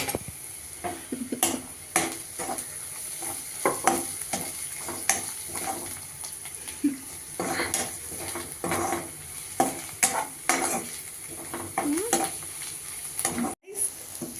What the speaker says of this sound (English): ½ tea spoon పసుపు వేసుకొని కలుపుకోవాలి.